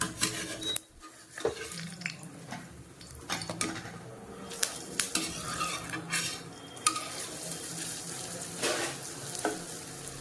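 Orappu adai, a Thanjavur-style thick lentil pancake, cooks in a pan, with spatula scrapes and pan clatter as it is lifted and flipped over a continuous sizzle. No talking is heard.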